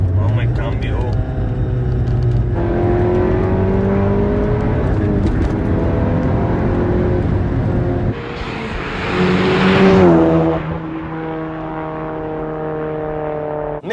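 An Audi S1 Sportback quattro engine, 330 hp, revs up through several gear shifts, rising and dropping in pitch with each change, loud and close, with someone talking over it.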